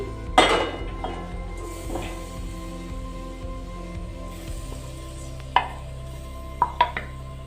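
A ladle scrapes and knocks against a pan while ground ash gourd is stirred in ghee on the stove, with several sharp metallic clanks spread through a quiet, soft sizzle.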